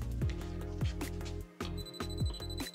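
A rapid electronic beeping from a wire detector repeats steadily in a warbling, trilling pattern, loud and close, with no talking.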